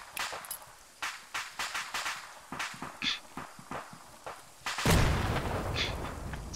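Video game gunfire rattles off as a quick series of sharp, irregular shots, and then a louder explosion erupts and its blast rumbles on to the end.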